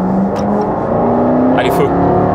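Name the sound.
Jaguar Project 8 engine revving with throttle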